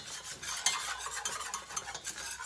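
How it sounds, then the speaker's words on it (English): A blonde roux is stirred continuously in a pan, a close, quiet scraping and swishing with faint sizzle and small spoon clicks, steady throughout with no voices. "I'm gonna continuously stir"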